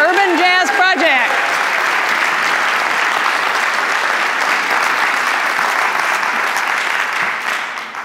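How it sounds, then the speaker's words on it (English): A large audience at a college's 10th anniversary celebration applauds a band, a loud, steady roar of clapping that lasts nearly the whole stretch after a brief voice at the start, then tapers off. "another big round of applause for the Afro-Cuban Funk Band and Urban Jazz Project"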